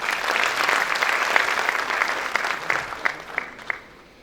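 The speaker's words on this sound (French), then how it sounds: "j'aimerais qu'on l'applaudisse, s'il vous plaît." An audience at a talk on women's leadership applauds in a steady, full wash of clapping that thins out near the end, leaving a few distinct last claps before it fades.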